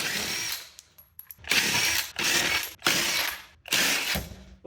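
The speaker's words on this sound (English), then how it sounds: "I can finish them off with a ratchet" A hand ratchet loosening wheel lug nuts on a 2008 Infiniti FX35 clicks in several loud bursts of rapid pawl clicking, separated by short pauses, close up with no talking.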